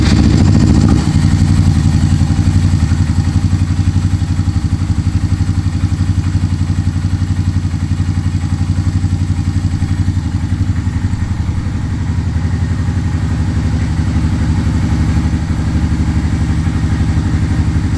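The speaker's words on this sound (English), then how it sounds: "let's go ahead and fire up the bike for the first time with the new cam" A 2019 Honda Monkey engine with aftermarket exhaust, intake, cam and tuned ECU catches early and settles into a steady, loud idle with a low rumble and mechanical clatter throughout.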